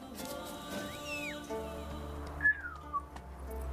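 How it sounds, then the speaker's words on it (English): Short melodic whistles of a player calling a horse in The Witcher 3, two rising and falling phrases heard over quiet game music, with a few soft thumps near the end. "the only reason Gizmo reacts to whistling"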